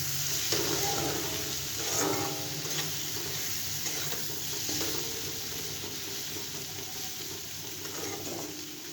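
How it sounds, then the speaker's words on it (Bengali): Cumin and coriander powder with other spices sizzle in oil in a cooking pan while being stirred. A steady close frying hiss carries a few soft scraping strokes, and no one speaks. "সব কিছু নাড়িয়ে নেব।"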